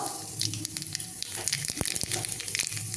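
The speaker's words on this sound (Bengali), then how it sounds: "সামান্য একটু কালো জিরে ফোড়ন দেবো" Black cumin seeds crackle and sizzle in hot mustard oil, the same oil just used to fry lentil dumplings, a dense close spatter of pops and hiss lasting a few seconds with no voices.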